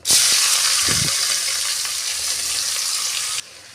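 Onions sizzle and crackle steadily in hot oil, loud and close, with a brief clatter of stirring near the start before the frying cuts off.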